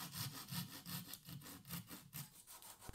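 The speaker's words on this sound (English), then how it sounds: "could trim off the excess again with a pull saw" A pull saw cuts through plywood in steady back-and-forth strokes with light downward pressure, a rhythmic rasping about two strokes per second, close up with no talking.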